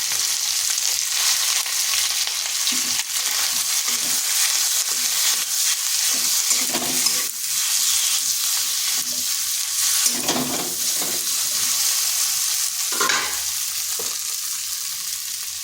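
Boiled, hand-mashed potato with green chilli, grated ginger, salt and coriander powder fries in a pan under a continuous loud sizzle, broken by repeated scraping strokes of a spatula as it is stirred.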